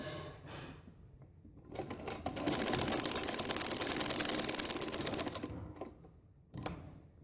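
A sewing machine stitches along the design of a poncha, the trouser hem. A rapid mechanical clatter swells into a loud sustained run, then slows and stops, with a brief burst at the end. No voices.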